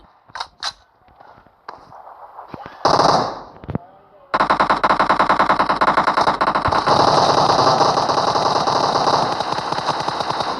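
Machine gun fire in a video game, beginning with a few scattered shots and mechanical clicks, then a sustained loud burst of rapid automatic fire lasting several seconds.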